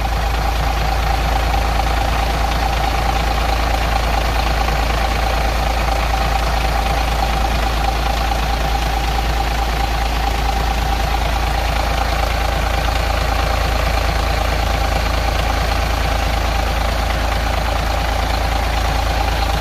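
A MAN A20 bus engine idles after starting, giving a loud, close, continuous low rumble with an even throb that holds steady throughout. No one speaks over it.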